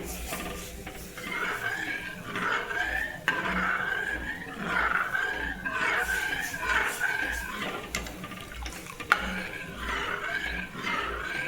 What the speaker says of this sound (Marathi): गॅसची फ्लेम फुल केली आहे आणि आता या पद्धतीने व्यवस्थित बेसन हलवते मी